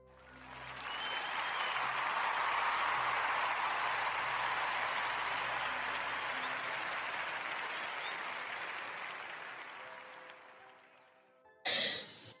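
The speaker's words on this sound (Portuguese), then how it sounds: "quer pedir a toda a gente uma grande salva de palmas" A long, full round of applause from an audience swells in, holds steady for about ten seconds, then tapers off, followed by a brief louder sound at the very end.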